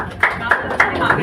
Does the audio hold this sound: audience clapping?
yes